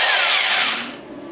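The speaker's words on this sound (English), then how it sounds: "Old school Black & Decker power drill." Old Black & Decker power drill whirring at high speed for about a second, loud and close, with its pitch falling as the motor winds down.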